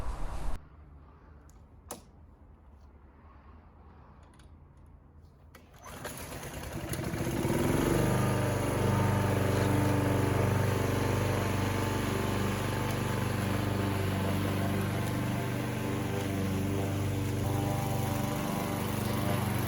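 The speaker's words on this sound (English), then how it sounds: "even with a powerful petrol mower, it was still struggling a little bit" Quiet at first, then a petrol lawn mower starts and roars steadily nearby, labouring through long, wet grass with a continuous loud engine drone.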